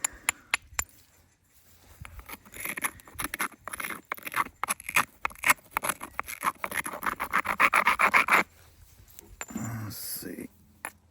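A hammer stone strikes and scrapes Buffalo River chert in a run of sharp knapping clicks and scratches, close and fairly quiet, ending with a brief voice.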